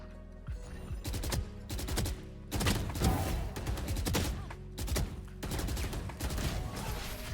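Rapid bursts of gunfire from a Valorant match played as Killjoy: several loud, close volleys of repeated shots separated by brief pauses, no talking.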